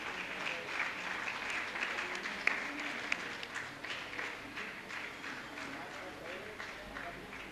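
A crowd applauds at a ceremony in a naturopathy and yogic sciences medical college, a steady, dense patter of many hands clapping continuously, heard from a moderate distance.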